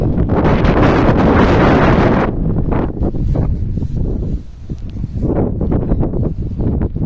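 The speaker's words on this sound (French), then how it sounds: "Il y a un peu de vent là." Strong wind buffets the microphone in a loud, steady roar, easing slightly midway before gusting back up.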